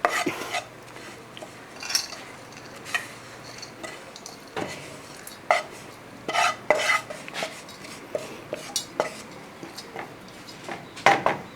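Fried chili, coriander, turmeric and coconut are scraped from a pan into a vessel: repeated sharp metal scrapes and clinks of a spoon against cookware, irregular and close, over a faint sizzle.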